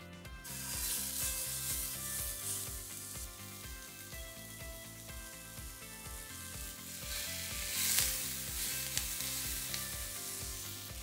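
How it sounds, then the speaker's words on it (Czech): Burger meat frying in a pan with leftover bacon fat, giving a close, continuous sizzle and crackle that sits under a rhythmic background with tonal elements, and a brief louder spatter near the end. "Pánev si neslumuju, rovnou tam začnu dávat maso."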